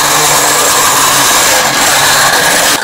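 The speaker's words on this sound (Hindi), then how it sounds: "अब हम हैंड ब्लेंडर की सहायता से इसको फेंट लेंगे।" Hand blender whirs loudly and continuously while whipping a rose kulfi mixture of milk and rose syrup, a dense steady motor drone close to the mic for the whole stretch.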